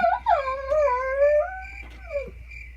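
Pit bull Rottweiler mix dog howling close by: one long, wavering, rising-and-falling howl, then a shorter whimpering whine at the end, with no talking.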